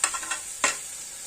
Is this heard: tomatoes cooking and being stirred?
yes